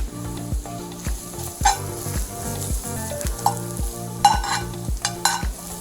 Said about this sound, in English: we'll stir fry this one until all the aroma will come out